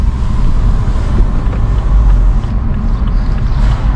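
Car driving after its straight-piped exhaust was removed, giving a low, steady engine and road rumble with wind noise from open windows, fairly loud and continuous with no talk.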